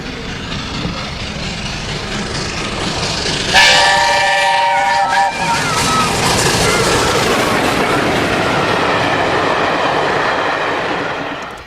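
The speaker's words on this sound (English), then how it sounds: "Bittern climbing Stoke Bank on the opening day of April 2008's North Britain" An LNER A4 steam locomotive, Bittern, climbs Stoke Bank with a loud, steady roar of exhaust and rolling train noise, and a sharp whistle blast cuts in briefly early on.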